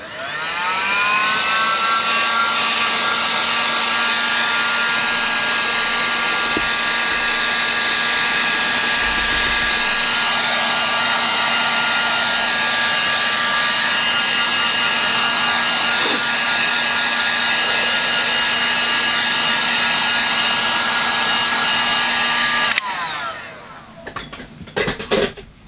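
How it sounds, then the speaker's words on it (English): A blow dryer runs on a watercolour painting of trees, giving a steady, loud, close whooshing roar with a high whine for about 23 seconds before it cuts off. "instead of taking a break, let's use the blow dryer."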